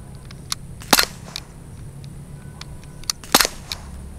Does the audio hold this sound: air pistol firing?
yes